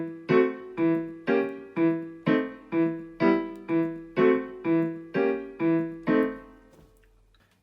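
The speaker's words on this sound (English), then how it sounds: "But if you put both of them together, It sounds like this." Piano with both hands playing the opening of Tchaikovsky's Dance of the Sugar Plum Fairy: a steady run of about a dozen short, evenly spaced notes and chords, clear and close, fading out on the last one.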